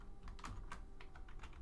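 Rapid clicking of computer keyboard keys as a company name is typed into EPOS software settings, a quick uneven run of close, crisp keystrokes over a low background hum.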